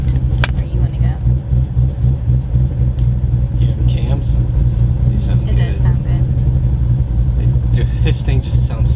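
A Shelby GT500 fitted with a new supercharger idles with a deep, steady, loud rumble up close, with a few faint clicks and brief knocks on top.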